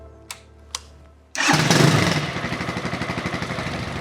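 A stored motorcycle with a freshly charged 12-volt battery: two faint clicks, then the engine cranks and fires, catching loudly and settling into a steady, rhythmic idle close by.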